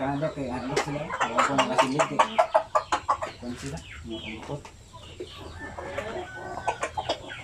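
Shamo aseel chickens clucking, hens with chicks, a run of loud rhythmic clucks close by early on, then softer clucking and peeping alongside someone talking.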